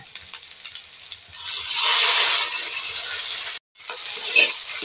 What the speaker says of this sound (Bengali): এটাকে একটু দিয়ে ভালো করে নাড়াচাড়া করে ভেজে নেবো